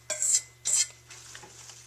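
Onion pieces land in a pan by hand in two distinct bright rustling clatters, followed by fainter scraping and light sizzle, close and with no talking.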